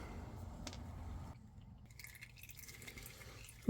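Oil trickles from the drain hole of a 2019 RAM 1500 HEMI in a faint, soft drip and splash, close by and quiet, with a small knock at the very end.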